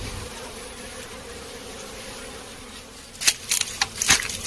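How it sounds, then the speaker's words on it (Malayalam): A large honeybee colony nesting among stones gives off a steady, soft buzzing hum, and louder bursts of close buzzing pass near the end. "ഇവിടെ ഒരു വലിയ തേനീച്ച കോളനി ഇരിപ്പുണ്ട്"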